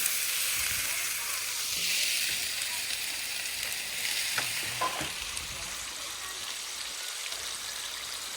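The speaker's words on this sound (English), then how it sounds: "frying taters." Potatoes frying in hot oil at an outdoor fish fry, a steady broadband sizzle running throughout with a few brief stirring clinks and bumps near the middle.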